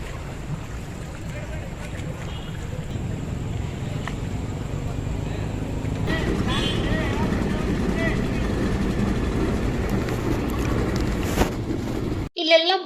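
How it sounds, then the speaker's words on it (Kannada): Boats on the water during boat rides, heard from a bridge: a steady motor-like rumble and water wash with some wind noise, growing somewhat fuller midway, before a sharp cut near the end. "ಇಲ್ಲೆಲ್ಲ ಬೋಟ್ ರೈಡಿಂಗ್ ಹೋಗ್ತಾ ಇದ್ರಲ್ವಾ"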